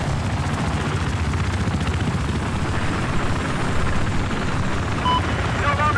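Transport helicopter in the video game Battlefield 4, its rotor drone loud and continuous right overhead, with faint game sound effects near the end and no talking.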